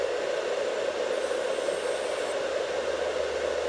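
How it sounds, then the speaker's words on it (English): A nail dust collector fan runs continuously nearby, producing a steady, even airy whoosh with a constant motor hum and no pauses. "It does a pretty good job at sucking the airborne dust."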